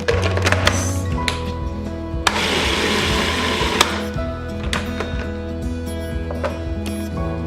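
A food processor whirs as it blends tahini for hummus, a loud steady motor hum with rattling and clattering of the blade and bowl continuing without pause.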